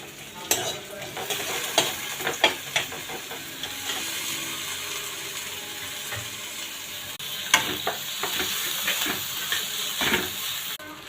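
Tomatoes and spices stir-fried in a pan for a paneer curry, a steady close sizzle broken by sharp scraping clacks of a spatula at irregular intervals, no talking.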